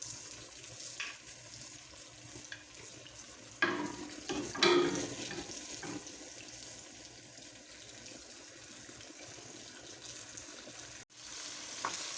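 Chicken pieces fry in hot oil in a pan for a spicy karahi, a soft, steady sizzle with bursts of louder crackling and stirring clatter partway through, mostly quiet and close.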